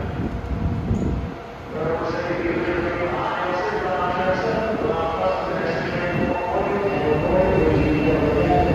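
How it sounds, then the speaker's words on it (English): A Long Island Rail Road train called the Flying Yankee pulls out of Jamaica station at rush hour, bound for West Hempstead, with a steady broadband rumble of rolling cars and rail clatter filling the platform throughout. "the Flying Yankee leaving for West Hempstead on train 1756"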